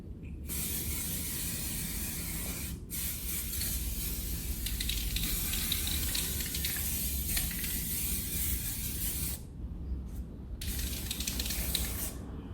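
An aerosol spray paint can lays light, even coats onto a metal shot put, giving long steady hissing bursts broken by a few brief pauses.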